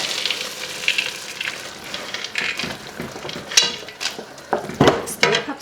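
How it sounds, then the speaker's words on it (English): Peanuts and a pat of butter going into a pot of boiling candy mixture at 250 degrees, with bubbling sizzle, clinks of utensil against pot and scattered clattering bursts, close and fairly loud with no talking. "I'm going to add peanuts and the pat of butter"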